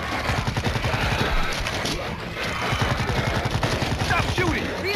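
Rapid automatic gunfire from World War Z on Nintendo Switch rattles in loud, dense bursts with a brief pause, over game shouting and chaotic action sounds.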